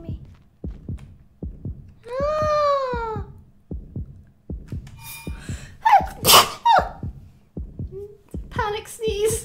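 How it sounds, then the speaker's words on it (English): A sneeze bursts out in a game amid a steady thumping heartbeat effect, with a gasp-like tone and other sharp game sounds around it. "Panic sneeze."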